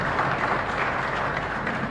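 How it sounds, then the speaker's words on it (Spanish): A congregation at Mass in the chapel of San Juan María Vianney in Asunción claps in honor of the saint, a close, dense and steady round of applause filling two seconds without talk. "Fuerte aplauso para nuestro santo."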